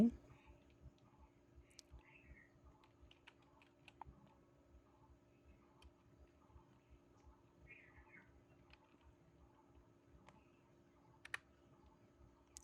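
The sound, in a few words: typing on a computer keyboard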